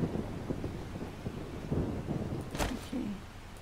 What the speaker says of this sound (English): Why is it like raining inside?